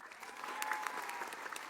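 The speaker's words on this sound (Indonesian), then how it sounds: "Tepuk tangan dong." A crowd at a religious lecture gives a short burst of applause, fairly faint and scattered clapping that swells briefly and then stays steady for under two seconds.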